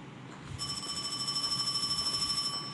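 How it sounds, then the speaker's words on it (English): A telephone rings in the Paranormal HK horror video game, a steady electronic trilling tone that pulses rapidly for over two seconds, moderately loud against a quiet background with no talk. "Katie, where's the phone come from?"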